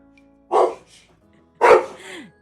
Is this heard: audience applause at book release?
no